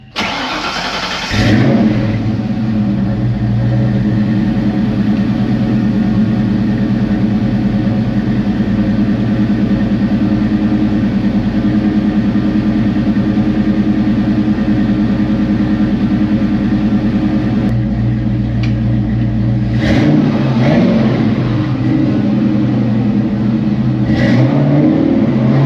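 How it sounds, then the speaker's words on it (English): A Euro-influenced collector car engine starts and runs at a steady, loud idle as the car is moved. The deep rumble holds throughout, with a brief change near the end as the engine revs and shifts, and no talk. "So let's get this car moved and out of here."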